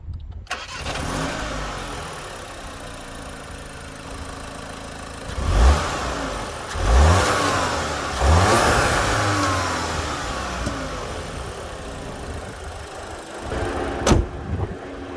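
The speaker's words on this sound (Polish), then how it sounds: "w Audi S3 mamy 4-cylindrowy, 2-litrowy, benzynowy silnik turbo, który teraz generuje 310 koni." Audi S3 2-litre turbocharged petrol four-cylinder engine with quattro all-wheel drive, starting up and revving in several loud close bursts over a steady running drone, with a brief sharp knock near the end.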